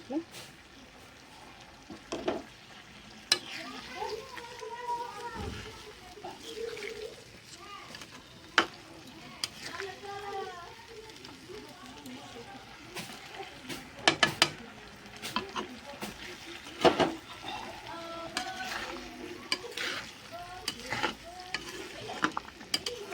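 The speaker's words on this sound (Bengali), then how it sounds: "এরপর এটাকে ভালো করে একটু ফুটিয়ে নেবো" Gravy simmering and frying in a pan for a Dussehra home-cooked meal, a low bubbling sizzle with intermittent stirring clatter and spoon scrapes against the pan throughout.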